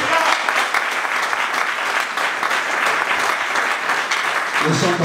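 A church congregation at a consecration service claps in sustained, dense applause, loud and continuous for several seconds with voices mixed in.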